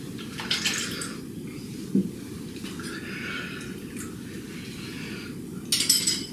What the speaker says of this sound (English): I'm going to make sure I've got all the soap out of this bowl.